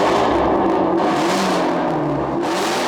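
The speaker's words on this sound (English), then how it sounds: "Now I'm gonna show you the exhaust. When you turn on the exhaust, how different it sounds." A 2019 Ford Mustang GT350 R with its exhaust opened, revving in loud, sustained bursts of engine roar with rises in pitch around each throttle blip.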